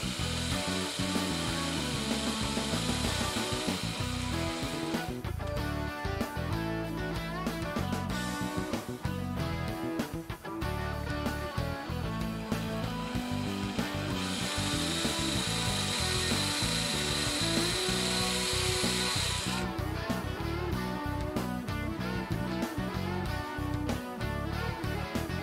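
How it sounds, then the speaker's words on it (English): A small 1/16 inch drill bit whirs continuously into a diecast metal model car for a long stretch, with scraping, grinding texture and brief pauses, close and fairly loud. "use a 1/16 inch drill bit and open up the casting to fit the tubes."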